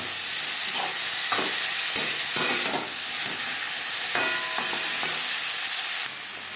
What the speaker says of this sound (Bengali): ফুলকপি হালকা করে দিয়ে নেব